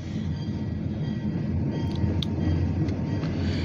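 An OC&T Alco 85 locomotive leading a light power train rolls past with a steady, loud low rumble and a constant metallic rail drone, with a few faint squeals near the end.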